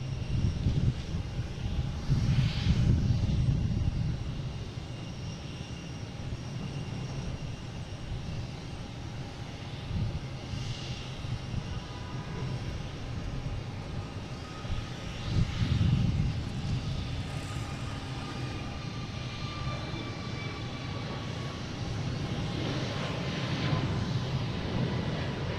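An Airbus A321neo jet on a Shamrock flight bound for Shannon roars steadily at a distance, a broad sustained engine rumble with wind buffeting the microphone.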